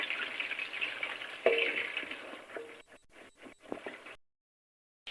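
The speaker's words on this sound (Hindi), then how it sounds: "सब्ज़ मिर्ची जो ली थी उसको भी मैं साबित इसमें डाल दूँगी, और इसे जो है हम भून लेंगे थोड़ी देर के लिए" Cumin and whole green chilies fry in a pan for a whole-eggplant dish, giving a steady close sizzle broken by a few sharp clicks and stirring taps before the sound abruptly cuts to silence.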